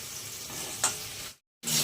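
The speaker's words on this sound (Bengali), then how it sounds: "একটু 3-4 মিনিট ধরে একটু নাড়ানাড়ি করে একটু ভাজা ভাজা করে নেবেন" Sliced okra and pointed gourd sizzle steadily in a frying pan while being stirred, a close hiss with one brief scrape, then a sudden short silence before the sizzle returns.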